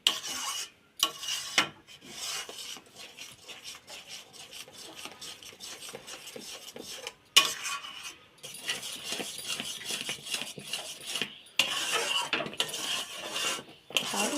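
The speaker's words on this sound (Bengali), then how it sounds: "এটা শুধু অনবরত নাড়বো যেহেতু বেসন আছে তো ধরে যেতে পারে" Continuous rhythmic scraping of a spoon stirring a thick gram flour batter with spinach in a pan, close and fairly quiet, with strokes repeating steadily and brief gaps between them.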